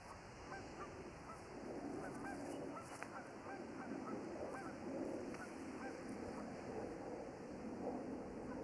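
Geese on a golf course honk repeatedly from some distance, the calls fairly faint over a steady outdoor hum.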